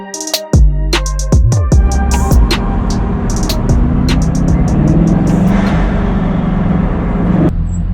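City street traffic in Mayfair, London, is loud and close, with a vehicle pulling away in a rising engine roar, then a dense continuous rumble of passing cars and engines.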